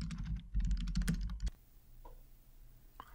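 Keys tapped on a computer keyboard while entering a name into an LTI tool integration profile, a dense burst of quick, close clicks for about a second and a half, then quiet with a few faint taps.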